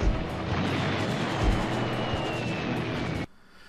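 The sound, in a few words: explosions in video game Army Men: Sarge's Heroes 2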